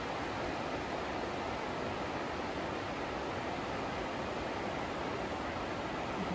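Maple Creek runs in an unbroken, even rush of broadband water noise along a trail, steady and moderately distant, with no voices.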